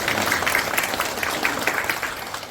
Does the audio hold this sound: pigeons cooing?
no